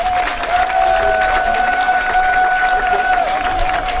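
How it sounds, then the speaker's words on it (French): Audience applauding at a press conference, steady dense clapping throughout with a sustained tonal hum or feedback ringing over it. "sous vos applaudissements, s'il vous plaît"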